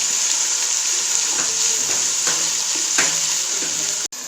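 Onions sizzle and fry in a pan for a mutton brain dish, a steady close crackling hiss with a few stirring clatters, loud and continuous without talking.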